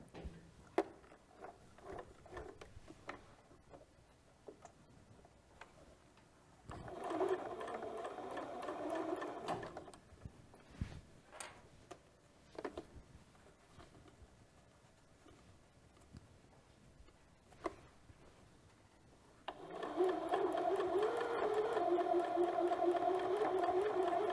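A sewing machine top stitching a homemade fabric face mask, running in two loud, steady whirring bursts separated by quieter pauses filled with clicks and handling noises.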